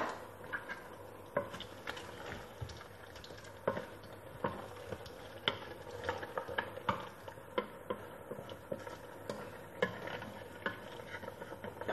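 Igbo-style okra soup, with intestine among its ingredients, being mixed together by hand in a pot, giving a stream of close, wet ticking and sticky patter sounds at an uneven rhythm.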